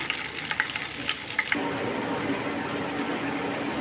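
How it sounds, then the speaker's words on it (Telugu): Ginger and turmeric frying in hot oil, a steady close sizzle with a few clicking stir scrapes early on, then a denser, louder hiss as the frying settles in; no voices. "అల్లం కూడా కొద్దిగా ఎర్రగా మగ్గనివ్వాలి"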